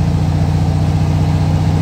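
An old Volkswagen Beetle (Fusca) engine idles with a steady low, lumpy air-cooled rumble, close and loud, running evenly as it is eased up slowly.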